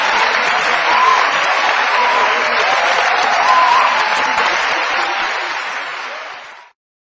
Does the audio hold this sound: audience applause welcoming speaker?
yes